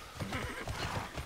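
A horse in the video game Tera neighs over quick clip-clopping hooves, a short close burst of whinny and steady trotting footfalls.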